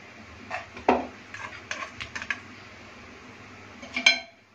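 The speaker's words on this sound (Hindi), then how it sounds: "अभी इसको हल्के हाथों से हम हिलाएंगे," A spoon or ladle is gently stirred through a pot of Hyderabadi fish kalia curry with fried fish pieces, making a few soft clinks and scrapes against the metal that are quiet and close, with no talking.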